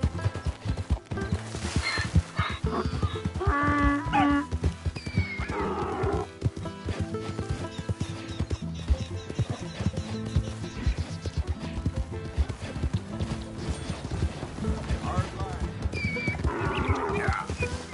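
Donkey braying and hooves clopping in the Red Dead Redemption 2 video game, repeated loud harsh brays over steady hoof beats, with other game sounds and some talk mixed in.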